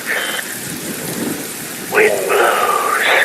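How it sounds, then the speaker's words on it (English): Heavy rain with wind in the video game Metal Gear Rising Revengeance makes a steady broadband wash throughout, joined in the second half by louder tonal, voice-like wavering tones over the downpour. "Wind blows, rain falls."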